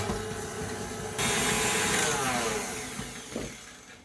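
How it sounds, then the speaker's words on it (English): An electric food mixer whisks sponge cake mixture with a loud, close whirring drone that swells partway through and then gradually fades, with a brief knock near the end. "I do like a nice food mixer. So I'll just wazz that round."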